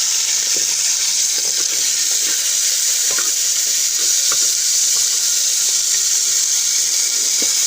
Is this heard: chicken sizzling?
yes